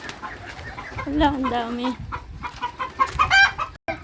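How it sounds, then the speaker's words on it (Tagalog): Farm birds and ducks give close clucking and honking calls in quick bursts, heard under a person's brief speech. "May mga ibon at saka bibi."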